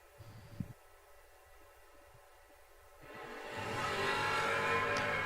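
A 1968 Camaro drag racing at a footbrake event, engine idling low and quiet before launching around the three-second mark into a loud, sustained full-throttle roar that holds to the end.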